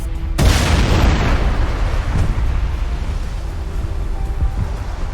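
Fuel tanks explode in the Mass Effect 1 video game: a sudden loud boom, followed by a long rumbling, crackling roar that slowly fades.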